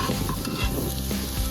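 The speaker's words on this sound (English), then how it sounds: "Browning the onions with the garlic and the ginger and the bay leaves" Onions browning in oil in a potjie pot with garlic, ginger and bay leaves, a steady close sizzle with spoon scrapes and stirring swishes running throughout.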